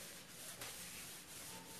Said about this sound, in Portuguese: Essa lixadeira é aquelas de pobinha, mais baratinha.